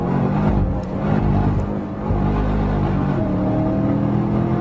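Cadillac CTS-V accelerating hard on the Cadwell Park race track, its engine a loud, steady roar close by that dips briefly around the middle before pulling strongly again for the rest of the run.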